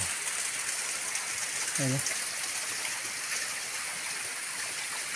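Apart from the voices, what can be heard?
natural spring water flowing near a river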